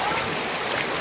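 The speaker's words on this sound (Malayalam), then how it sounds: "ഞാനിപ്പോൾ വെള്ളത്തിൻ്റെ ഒരു ഒഴുക്കിലാണ് ഇപ്പോൾ ഞാൻ കിടക്കുന്നത്." Flowing water of the Ariyoor stream, a steady broadband wash of running water close by, continuous and even with no breaks, without any voices.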